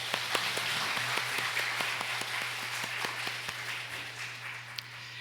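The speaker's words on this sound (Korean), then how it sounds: "우리 하나님께 영광의 박수 올려드리겠습니다" A church congregation applauding steadily with scattered sharp claps, a low steady hum underneath, moderately distant and sustained throughout.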